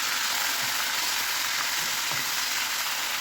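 Marinated meat frying in hot oil for lagman, a loud continuous close sizzle with faint crackles and no pauses.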